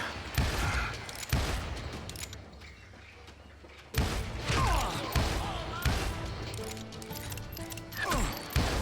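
Western-style gunfire in the video game Call of Juarez Gunslinger: about half a dozen sharp, loud shots, spaced irregularly with quieter gaps, with some speech between them.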